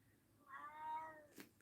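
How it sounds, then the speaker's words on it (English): A cat lets out a single drawn-out, wavering meow-scream at close range, quiet overall, followed by a short sharp noise at the end. "Cat's going to start screaming at the ghosts"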